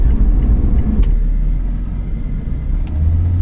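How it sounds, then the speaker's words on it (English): A Lotus Evora GT's engine drones as the car drives, a deep, raw, steady rumble heard from inside the cabin, loud and continuous with a couple of faint clicks and no talking. "this feels a little bit more raw, and the engine is louder"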